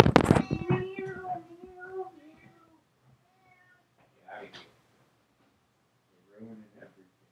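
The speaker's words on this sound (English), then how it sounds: "My cat's being whiny again." A male house cat meows loudly in a quick burst of whiny, drawn-out cries, then calls again twice more faintly after pauses, heard indoors nearby.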